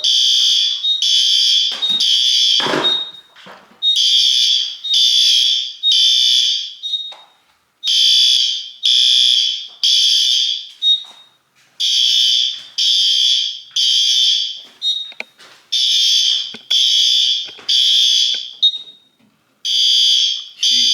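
A loud fire alarm, set off by a heat detector, sounds in repeated shrill pulsing bursts, grouped in quick sets separated by short gaps, with a brief clatter near the start.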